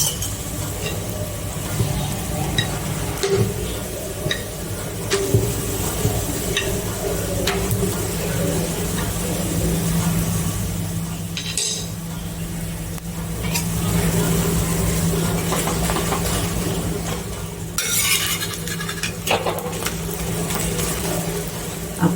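Moringa leaf dhebra fry in oil on a pan, a continuous loud sizzle and crackle throughout with occasional scrapes and clatter of turning.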